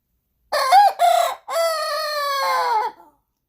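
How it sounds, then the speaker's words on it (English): A young backyard rooster gives one close, clear crow in three broken segments, a short two-note start and then a long held tone that fades out, with no other sound around it. "It is the most interesting sounding crow I have heard."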